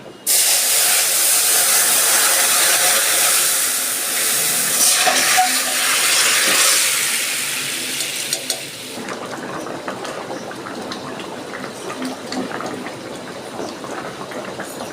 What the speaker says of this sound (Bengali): এবার আমি মাছের ঝোলটা ঢেলে দিচ্ছি